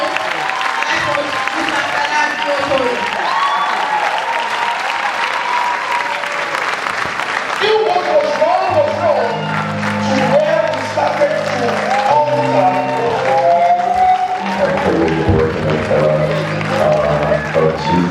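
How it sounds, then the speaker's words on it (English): Sustained, loud audience applause for a speaker at Google's Fuel For Your Hustle event in Abeokuta, a dense crowd clapping continuously with tonal background sound building under it. "Ladies and gentlemen, please put a round of applause together for Mr. Fela Durotoye."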